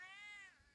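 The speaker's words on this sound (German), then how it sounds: "Und der Kater erzählt dem Garten immer noch was." Tomcat meowing in a garden, a single short, faint drawn-out meow that falls away at the end, heard alone.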